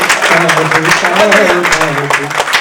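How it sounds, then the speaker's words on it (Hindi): Scattered, weak applause from an audience at a poetry recital, a brief patter of clapping mixed with crowd noise and voices. "बड़ी कमजोर तालियां थी इन पंक्तियों की"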